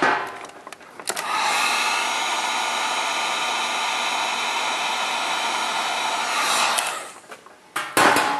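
Heat gun shrinking heat shrink tubing over a wire connection for a 3D-printed flashlight build, a loud steady blowing roar that clicks on, runs continuously for several seconds, then cuts off with brief clicks after.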